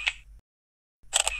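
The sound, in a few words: Samsung Galaxy Camera shutter click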